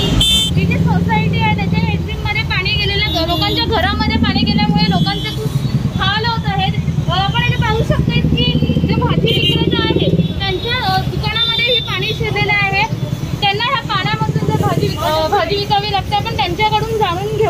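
Road traffic backed up on a rain-flooded street, with car engines and repeated horn toots and honks close by and all around, and people talking loudly over the din the whole time.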